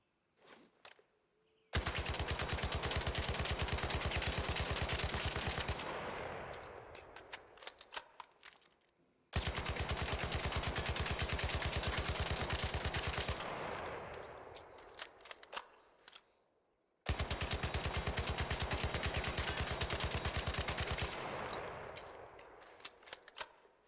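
A Tempest rifle fitted with a muzzle brake and epic horizontal grip fires in ARC Raiders: three long bursts of rapid automatic fire, each lasting about four seconds, separated by short pauses filled with clicks and shell clatter.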